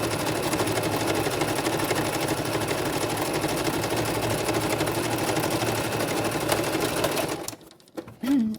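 A sewing machine stitching fabric grass onto a fabric activity page, running in a steady, even buzzing hum at close range for about seven seconds before stopping, followed by faint handling noises.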